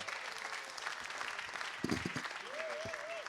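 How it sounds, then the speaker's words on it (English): Steady applause from an audience at the Geek Camp 4 event fills the room, with a few louder claps and a brief whistle or cheer rising above the clapping. "come on, a big applause for him"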